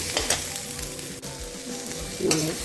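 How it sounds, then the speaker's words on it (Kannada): Drumstick pieces with turmeric fry in a pan, giving a steady close sizzle with a few louder stirring scrapes near the start and end, and no talking. "ಅರಿಶಿನ ಹಾಕಿ ಸ್ವಲ್ಪ ಫ್ರೈ ಮಾಡ್ಕೊಳ್ಳೋಣ"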